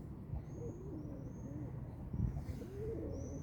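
Pigeons coo softly and repeatedly in low, throaty murmurs in a blooming city square in May, over a steady ambient background, with a faint high whistle drifting in and out.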